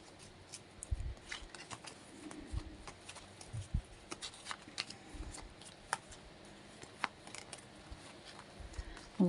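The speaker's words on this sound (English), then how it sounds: "There's quite a few cards jumping around here." Tarot cards being shuffled during a reading, a soft, irregular run of papery riffles and flicks at close range, with quiet pauses between bursts and no talking.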